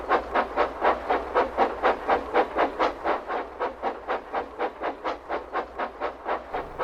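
A steam engine puffs steadily along the rails, about three chuffs per second, its rhythmic exhaust beats loud and close and continuing evenly with no voices.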